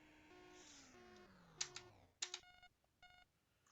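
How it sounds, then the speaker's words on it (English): Electronic beeps sound at a security checkpoint in the Datasoft Bruce Lee computer game: a falling tone, then several short clipped bursts of synthetic tones in quick succession, faint and with no talk. "Beep, beep, beep."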